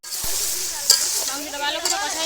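Meat being sautéed in a pot over a wood fire outdoors gives a steady close sizzle with stirring scrapes, with faint talk in the background.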